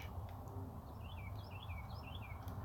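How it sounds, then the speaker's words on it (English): Birds chirp in quick repeated twittering phrases, fairly faint over a low outdoor rumble, with no one speaking. "You hear that? I hear it. Birds chirping."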